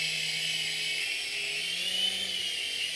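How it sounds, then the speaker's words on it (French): Small toy helicopter with its rear rotor spinning as it is driven forward, giving a steady high-pitched whirring buzz with a faint low hum beneath, close and continuous throughout. "quand on le fait avancer, l'hélice à l'arrière se déclenche. C'est fait exprès."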